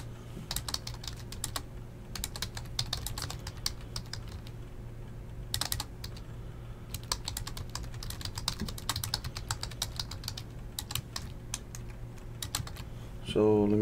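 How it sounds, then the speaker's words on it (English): Typing on a computer keyboard at a desk during a trading card case break, with steady clusters of soft key clicks coming in quick bursts and short pauses, close by, under low background hum. "So let me type that down real quick."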